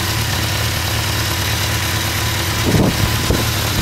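A steady engine idles with a low, constant rumble, a couple of brief louder bumps near the end.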